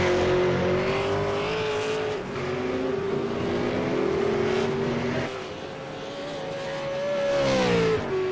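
V8 race cars on a warm-up lap at Oulton Park circuit, a continuous loud in-car engine drone with rising and falling revs through gear changes and corners.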